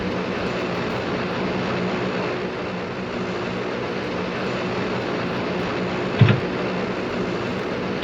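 A steady, droning turboprop aircraft engine in a flight simulator game hums continuously, with a brief sharp click near the end.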